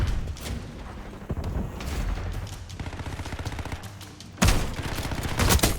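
Shotgun fire in the video game Black Ops 6: a burst of rapid gunfire blasts, the loudest starting sharply past the midpoint, over a dense background of game noise with no speech.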